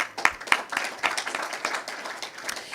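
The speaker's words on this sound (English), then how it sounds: "Please give him a clap" An audience at a restaurant awards media launch breaks into clapping: a few sharp claps at first, then a moderate, fairly sparse patter of applause.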